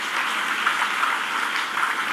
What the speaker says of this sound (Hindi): तुम ताली बजा रहे हो।